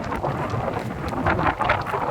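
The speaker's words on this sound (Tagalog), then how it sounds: "Grabe, unbelievable tong bagyo na to." Steady roar of typhoon wind-driven rain by the sea in Hong Kong, with a low rumbling undertone, continuous and close, no voices.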